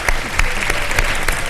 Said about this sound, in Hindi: भाई तालियों में मजा नहीं आ रहा है।